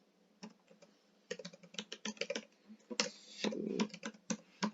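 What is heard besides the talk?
typing an email on a computer keyboard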